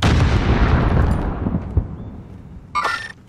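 Grenade explosion in Warzone booms loudly and rumbles as it fades over a few seconds, then a short, sharp gunshot cracks near the end.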